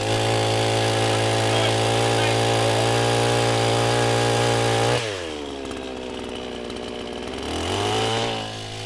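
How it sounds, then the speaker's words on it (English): A chainsaw runs at a loud, steady high rev for about five seconds, then drops to a rough idle and briefly revs up again near the end, with a voice talking beneath the engine noise. "start the chainsaw up and see if you can still hear me over the noise of it"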